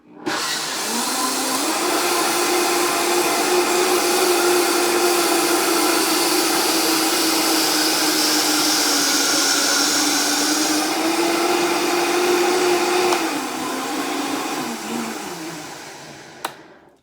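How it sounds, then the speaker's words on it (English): A Vitamix blender whirs through cucumber yogurt soup in one long, loud, steady roar whose motor pitch climbs, holds, then dips before winding down near the end. "I'm going to ask you to close your ears for a few moments once I get up here to drive the Vitamix"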